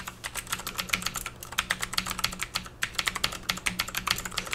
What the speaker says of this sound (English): I'm going to type a little bit just so you can hear the actuation of the keys